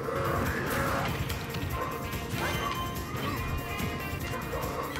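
Smash attack hits in Super Smash Bros Ultimate, a dense run of loud crashing impacts and whooshes layered over busy game music and effects.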